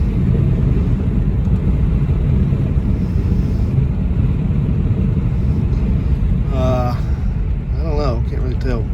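A poorly running Plymouth Gran Fury on a test drive fills the cabin with a loud, constant low rumble of engine and road noise mixed with wind buffeting, and a voice briefly speaks near the end.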